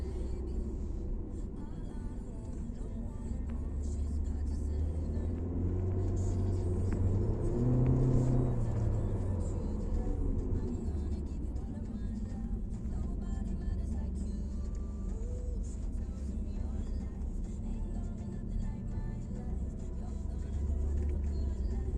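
A car drives at the Kyalami Festival of Motoring in South Africa, its engine a steady rumbling drone that swells as it accelerates mid-run and then settles back to an even cruise.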